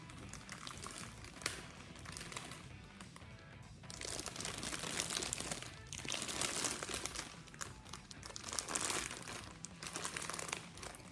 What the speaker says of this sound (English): Now, place another bag over the top.